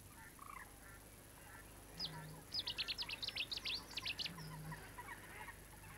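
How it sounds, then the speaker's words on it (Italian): A sedge warbler, just arrived from Africa, sings its territorial song among reeds in East Sussex, UK, a quick run of rapid chattering notes heard fairly faintly over a low background hum. "Il forapaglia macchiettato, appena arrivato dall'Africa, diffonde un grido di possesso per tutto il suo territorio."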